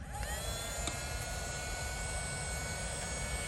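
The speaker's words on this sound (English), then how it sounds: "So it's just a matter of switching the vac on." A vacuum running at night in a garden to collect dragon fruit pollen gives a steady, close, even motor whine with airy rush that holds unchanged from start to finish, with no talking.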